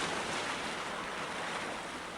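Ocean waves wash steadily against the shore in the Hell Hunter video game, a continuous, moderately loud surf roar with a faint breezy hiss and no voices.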